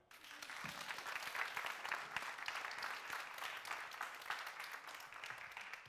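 A television studio audience applauds a visiting musician, dense sustained clapping from many hands that swells quickly and holds steady throughout.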